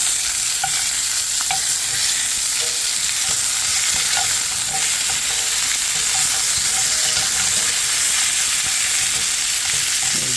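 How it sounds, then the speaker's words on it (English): Bison short ribs searing in a pan on a gas stove give a loud, steady sizzle that runs unbroken throughout, with faint scraping from turning the meat. "we're just trying to get caramelization on all surfaces"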